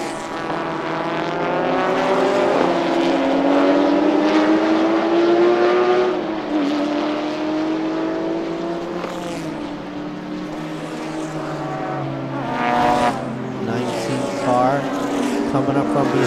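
Race cars at a Thailand Super Series round at Chang International Circuit, engine tones rising and falling as they lap, loud and continuous with a commentator talking over them.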